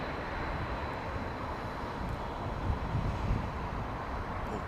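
A large jet airliner comes in to land at Heathrow Airport in gusty conditions, a broad low engine roar that swells slightly midway, steady and at a distance, with no voices.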